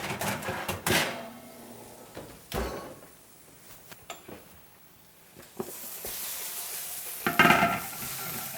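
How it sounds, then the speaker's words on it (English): Fresh vegetables sizzle in a hot pan with a few stirring clatters, louder bursts near the start and end, no talking. "A nice little sizzle to it, huh?"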